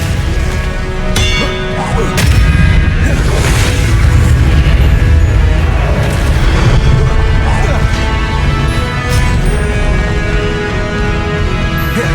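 Expelliarmus spell cast in the Hogwarts Legacy video game, a dense, loud stretch of magical impacts, bangs and whooshing bursts layered over a constant rumbling game soundtrack, with sharp hits near the start and middle.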